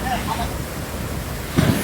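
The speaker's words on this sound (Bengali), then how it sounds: "এই পানিটি যে নামছে খুবই পরিষ্কার পানি" Water rushes down Napittachora waterfall near Mirsarai, Sitakunda, in Bangladesh, a dense, constant roar close to the microphone with a louder gush near the end, under brief voices talking.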